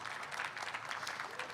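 Conference audience at an open source observability event clapping, a brief, moderately distant burst of applause from a seated crowd.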